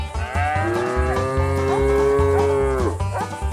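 A cow in Red Dead Redemption 2 lets out a long, loud, drawn-out moo while being milked, its low tone holding steady before sliding down at the end, close by and alone with no talk over it.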